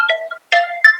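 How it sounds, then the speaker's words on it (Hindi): A phone ringtone plays a short electronic melody of bright tonal notes with brief gaps between phrases, clear and close, with no talk over it. "ले किसका है फोन चौधरी का आ गया"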